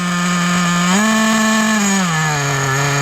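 An HPI Nitro WR8 RC car's small nitro engine idles with a loud, buzzy, steady drone, its pitch rising briefly and then dropping lower as the throttle trim is adjusted.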